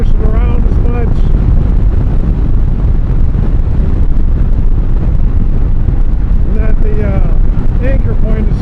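Wind blows hard across the microphone at a motorcycle campsite in a state park, a loud continuous roar with a voice talking briefly over it.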